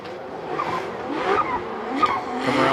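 Convertible drift car sliding through a corner at Suzuka Twin Circuit, Mie, during an FDJ2 Top 32 drift event, engine droning and tires squealing in rising and falling sweeps, with faint commentary voices underneath.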